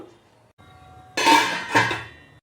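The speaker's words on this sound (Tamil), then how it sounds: "இதை ஒரே ஒரு நிமிஷத்துக்கு நம்ம மூடி வச்சிடலாம்" A metal lid clanks onto a pot of mushroom masala twice in quick succession, a bright ringing clatter close by, with quiet kitchen hum before and after.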